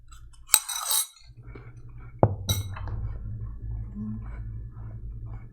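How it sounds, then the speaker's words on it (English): A fork clinks against a bowl while apple pieces are eaten, with a couple of sharp metallic taps followed by soft crunching and chewing nearby, no talk. "you're probably guessing I'm eating apples with a fork"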